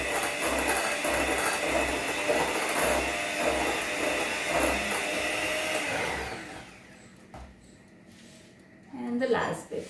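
An electric mixer whirs steadily at medium speed through eggless banana bread batter. Its motor drone carries a soft, regular thumping, then cuts out partway through, leaving a quieter room and a voice.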